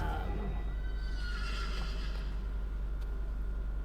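An ancient lich's steed in Dungeons & Dragons Online lets out a loud, clear neigh that rises and then trails off. A low steady hum runs underneath, and faint hoof clip-clop comes through near the start.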